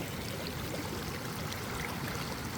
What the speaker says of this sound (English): It sounds like there's some good rapids down there.